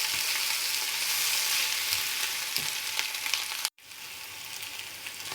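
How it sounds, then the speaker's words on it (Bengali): Ginger, garlic and cumin paste sizzles in hot mutton fat while being stirred, a steady close hiss with faint scraping from the stirring and a brief dropout near the end. "হালকা ভাজা হয়ে গেলে এর মধ্যে আদা রসুন জিরার পেস্ট দিয়ে দেব। এবার এগুলো ভালো করে নাড়তে হবে"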